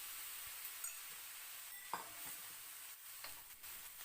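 Fried rice with chicken, egg and a caramelizing sauce is stirred in a pan, giving a faint, low sizzle with a few soft scraping knocks from the utensil, quiet and without voices.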